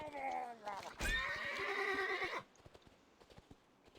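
Horse neighing and clip-clopping hooves in World of Warcraft, in Westfall: a loud, descending whinny over steady hoofbeats, then a second sharper neigh that holds about a second and a half before cutting off, leaving faint scattered clicks.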